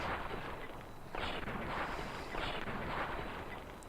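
Gunfire shooting at a fire gecko in Fallout: New Vegas, a few heavy, muffled booming shots spaced about a second apart over a constant dull rumble.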